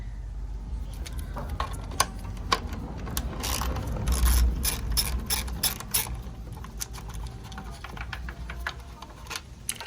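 Ratchet loosening a 10mm bolt during a Stillen Gen 3 intake install on a G37 coupe, with rapid close metallic clicking in repeated bursts and pauses, no speech.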